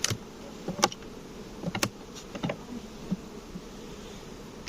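Bees buzz in bursts up close inside a small single-frame nucleus hive in late summer, with intermittent sharp crackles and clicks over a low, steady hum.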